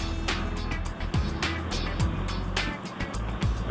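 A test car with Old Man Emu suspension runs at speed, around 80 km/h, into a stability test area, a loud steady engine and road roar with whooshing surges and low tonal sweeps under wind buffeting.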